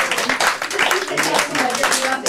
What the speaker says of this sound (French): On les applaudit tous bien fort.